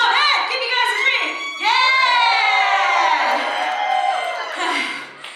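A Perth audience at a live idol concert cheers and screams continuously, a loud dense mass of high shrieks and whoops that swells after a brief dip and carries on.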